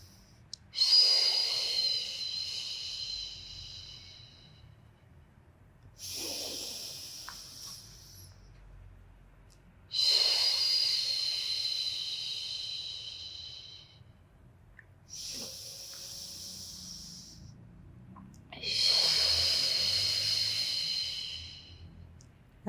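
Slow, deep breaths during a Pilates exercise, four long airy exhales spaced several seconds apart, each a loud close hiss that tapers off, with quieter inhales between.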